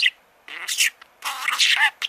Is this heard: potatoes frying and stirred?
no